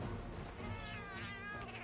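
A palico cat companion in a video game meows close and clear, with drawn-out, wavering meow calls over a low background rumble.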